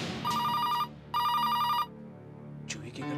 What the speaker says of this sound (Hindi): जूही के घर पे कोई फोन क्यों नहीं उठा रहा है?